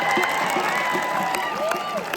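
A crowd at a village wrestling fair applauds and cheers, a dense, steady wash of clapping and voices that holds throughout the short stretch with no pause.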